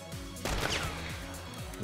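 A single gunshot rings out in a multiplayer hunting shooter, a sharp blast with a lingering tail over steady game ambience, fairly loud and close, with no talking.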